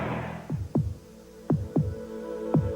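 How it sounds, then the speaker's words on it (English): Heartbeat sound effect from a 1986 Chevrolet car advertisement: five deep, booming thumps in lub-dub pairs, close and loud over a low hum, following a brief swell of broadband noise at the start. "Listen to the heartbeat."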